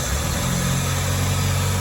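A freshly rebuilt car engine running at a steady, close, loud idle with a low droning rumble and constant vibration, no voices over it.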